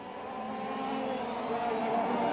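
A 135cc racing kart engine at a Hong Kong kart grand prix, buzzing steadily and building slightly in loudness as the race leader passes a slower kart, heard from a moderate distance.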